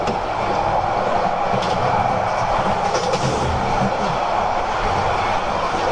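Steady rumble of a moving train heard from inside a carriage on a Bangladeshi rail trip toward Cox's Bazar, continuous and fairly loud, with faint rattles and clicks over the low roar.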